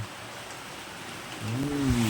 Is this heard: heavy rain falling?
yes